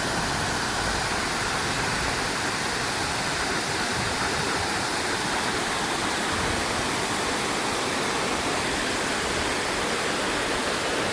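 Steady rushing water of a river at Beaudet Reservoir Park, a continuous broadband roar that stays loud and even throughout with no talk over it.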